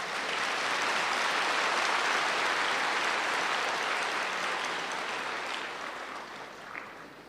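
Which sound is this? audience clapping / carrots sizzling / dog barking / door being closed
audience clapping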